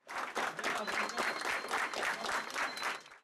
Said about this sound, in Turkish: Diyarbakır Barosu'na gelen polislerce gözaltına alınan Elçi'ye meslektaşları alkışlarla destek oldu.